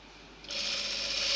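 Sewing machine stitching dori piping onto a kurti neckline, starting up after a short pause into a steady, close whirring run that holds and builds slightly to the end, with no voices.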